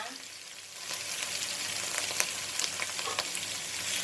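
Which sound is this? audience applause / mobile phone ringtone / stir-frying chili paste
stir-frying chili paste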